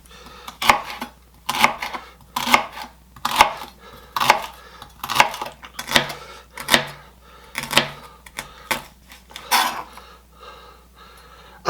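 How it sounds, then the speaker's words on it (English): Knife chopping potatoes into little slices on a cutting board for potato salad, a series of about a dozen crisp, separate thuds in an uneven rhythm, close and clear with quiet breathing between strokes. "we're just going to cut these up into little slices"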